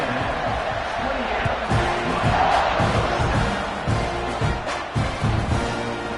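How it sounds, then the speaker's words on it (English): Football stadium crowd roaring before kickoff, a broad sustained wash of cheering voices with a commentator talking over it. "this crowd now ready to get behind them"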